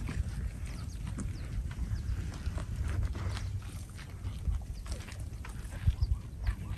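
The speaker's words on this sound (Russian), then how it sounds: "Слышно это звуки щипания травы" Zebra cropping and chewing grass outdoors in Tanzania, with soft rhythmic tearing and crunching close by over low rustling ambience.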